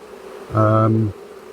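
European dark honey bees in an opened hive give a loud, close tonal buzz that swells for about half a second and then fades, with quieter hum around it.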